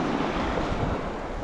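Ocean waves breaking on a sandy shore, a loud, dense wash of surf mixed with strong wind buffeting the microphone, steady for the whole moment with no voices.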